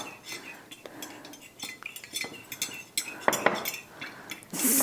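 A metal spoon stirs milk spiced with Tapatío hot sauce in a dish, with repeated clinks and scrapes against the bowl in an uneven rhythm, close and fairly quiet.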